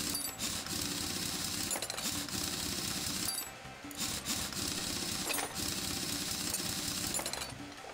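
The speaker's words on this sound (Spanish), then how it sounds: "Vamos a quitar la rueda." Mechanical clanks and rapid ratcheting from removing a car wheel while swapping brake discs and pads in Car Mechanic Simulator, two long bursts of tool noise split by a brief pause, close and steady, no talk.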